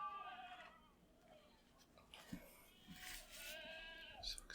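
A goat bleats loudly and shrilly outdoors, several wavering cries in a row with short gaps, close and clear, with some faint background noise between calls.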